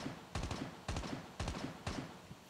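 Gunfire in the Call of Duty: Mobile battle royale game: four evenly spaced short bursts of rapid shots, each a quick rattle of cracks, fairly loud and close with no talking.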